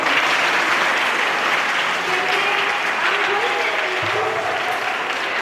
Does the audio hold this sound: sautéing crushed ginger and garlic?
no